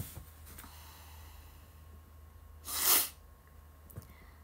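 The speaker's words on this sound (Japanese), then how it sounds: "くしゃみ出そう。" A single short sneeze bursts out, close and sharp, partway through a quiet indoor livestream, set against a faint steady room hum with no other voices.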